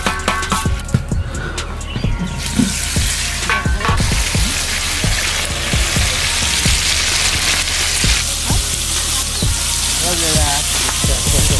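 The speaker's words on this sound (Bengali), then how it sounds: "কড়াই গরম হয়ে গেছে, তেলটা দিয়ে দিই" Oil sizzling and crackling in a hot kadai, a steady bright frying hiss with scattered pops and clatter of utensils throughout, close and fairly loud.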